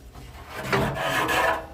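Lid of a Traeger pellet grill being lifted open, a short close scraping rub of about a second, loud and alone.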